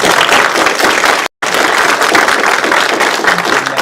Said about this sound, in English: So if we might just give a little round of applause to our panel of judges